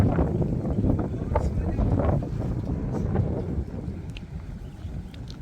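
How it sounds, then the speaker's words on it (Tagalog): Strong gusting wind buffets the microphone in a dense, rumbling roar, surging and easing, with faint talk mixed in. "Yan, mahangin na mga besh."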